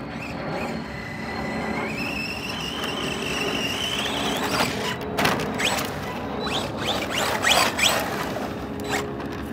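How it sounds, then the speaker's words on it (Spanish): An Arrma Senton 4x4 RC truck on a 3S battery speeds about, its electric motor whining steadily with a rising pitch, then rattles and scrapes as it bumps over rough ground, fairly close. "Muy rápido este carro. El arma sentón 4x4."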